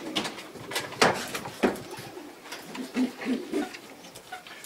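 Pigeons coo repeatedly in a loft with new dovecotes, soft low calls coming close together with some rustling and wing movement, no talking.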